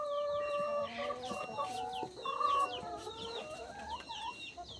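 Laying hens on an integrated poultry farm cluck and call continuously, overlapping close-up bird voices over a steady background of flock noise, with no speech.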